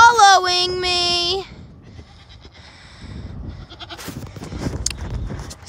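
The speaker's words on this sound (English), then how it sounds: "And we have goats following me." Goats on a goat farm bleat loudly and close for the opening second and a half, a single drawn-out wavering call, followed by quieter rustling and footsteps as the animals follow along outdoors.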